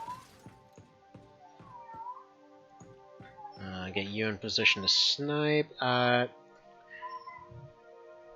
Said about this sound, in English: You guys hear loud robotic meowing?